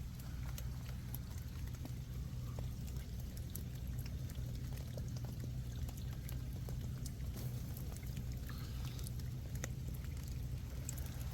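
Shallow creek water washes dirt and sediment across a sandy bed, a steady continuous trickling and pouring wash with low rumble, close and unbroken throughout, with no talking.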